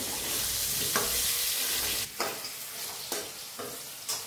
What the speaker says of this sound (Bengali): এটাকেও আমি একটু লাল লাল করে ভেজে নিই।